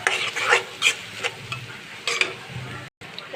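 Egg stir-fries in a pan while vegetable noodles are being made, with a low steady sizzle broken by several sharp scraping stirs of a spatula, close and loud.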